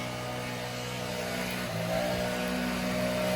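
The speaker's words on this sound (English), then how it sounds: "Sorry about the leaf blower." A gas leaf blower runs outdoors during a rainstorm in Frisco, Texas, a steady droning engine hum with a slight swell in the second half, heard from some distance.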